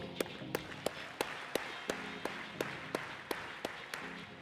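Applause at a conference opening ceremony comes through faint and distant, heard as a regular series of about fourteen evenly spaced sharp claps over a low background hum.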